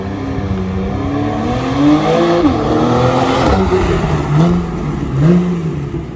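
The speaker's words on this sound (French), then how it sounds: "le moteur de la Carrera s'exprime pleinement et se montre très efficace et surprenant" A Porsche 911 (991) Carrera 4S engine revs up and down repeatedly through the gears, rising and falling pitch, loud and close throughout.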